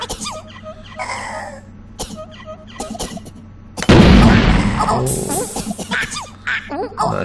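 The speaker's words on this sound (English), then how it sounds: "Everybody coughing and spluttering." Several short coughs and sputters from Worms World Party characters over a steady background hum, followed by a loud burst of noise and scattered clatter.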